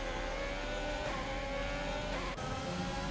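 Ferrari Formula 1 cars racing in an F1 video game on Xbox at the Canada round, a steady high engine whine with rising pitch held across the clip, fairly quiet.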